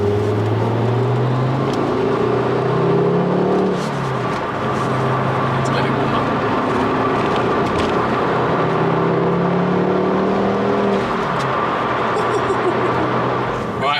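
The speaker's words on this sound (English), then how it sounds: "Engine sounds good, gearbox works." A Ford Focus RS Mk2 with a non-resonated Milltek exhaust runs on the road, its engine droning loud and close with rising and falling revs as gears change.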